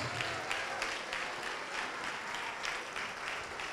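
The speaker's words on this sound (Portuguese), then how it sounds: "Vamos aplaudir mais ao nome de Jesus." Church congregation applauding during a service, a steady crowd of hands clapping with some sharper individual claps standing out, even and sustained throughout at moderate distance without talk.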